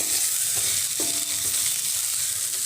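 Spices such as chili powder, coriander powder and salt are stirred in a hot frying pan for an Assamese pointed gourd and potato curry, with a loud, constant sizzle and a couple of brief scraping stirs.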